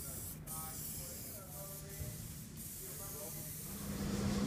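An aerosol can sprays U-POL black E-Coat 12 direct-to-metal coating, a steady soft hiss that holds throughout and grows slightly louder toward the end, fairly faint and with nobody talking.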